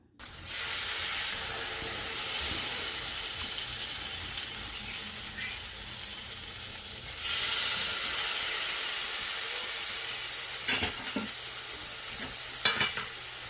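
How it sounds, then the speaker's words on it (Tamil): Marinated fish fries on a hot tawa, giving a loud, steady hissing sizzle that surges when more fish goes on, with a few scraping clinks near the end. "தவா சூடானதுக்கு அப்புறம் நம்ம இந்த ஃபிஷ்ஷை அதில் போட்டு ஃப்ரை பண்ண ஸ்டார்ட் பண்ணலாம்"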